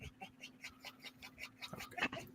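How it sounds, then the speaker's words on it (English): Waylon, a pet dog, keeps up a rapid run of faint, excited yaps somewhere in the background, distant and low in level. "Is that one of your dogs? Yes, Waylon's having a conniption fit."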